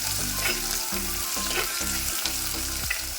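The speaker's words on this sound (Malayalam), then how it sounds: "കടുകൊക്കെ പൊട്ടി സെറ്റായിട്ട് ഞാൻ അതിനകത്തോട്ട് നമ്മുടെ ഇഞ്ചി, വെളുത്തുള്ളി, കുടംപുളി, വാളമ്പുളി അതെല്ലാം ചേർത്ത് ഇനി നമുക്ക് ചെറുതായിട്ടൊന്ന് ഇളക്കി അതൊന്ന് സെറ്റാക്കാം." Ginger, garlic and kudampuli sauté in hot oil with popped mustard seeds, a loud, steady close sizzle with rhythmic stirring scrapes running throughout, no voices.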